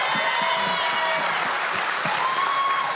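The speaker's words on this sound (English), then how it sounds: "you can clap it up for my guy Tay." A crowd of audience members applauds for basketball player Devonte Graham, dense steady clapping filling the whole stretch at close, even loudness, with faint voices mixed underneath.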